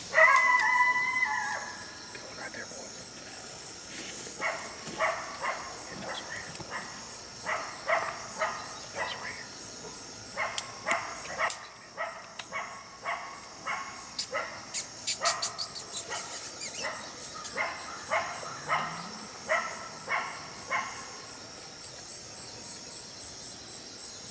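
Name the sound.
coyote warning bark howl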